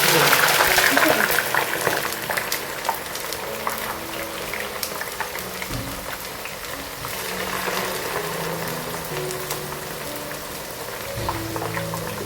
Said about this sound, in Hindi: कीमा हमारा फ्राई हो रहा है, जब तक हम इस साइड पे करेले डाल देते हैं ताकि ये भी फ्राई हो जाए।